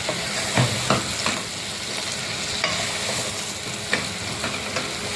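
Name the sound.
stirring okra curry frying in pan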